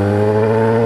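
A Yamaha XJ6 motorcycle with a 4-into-1 exhaust and no dB killer, its engine running loud and close with a steady, heavy harmonic drone that holds throughout, no voices over it.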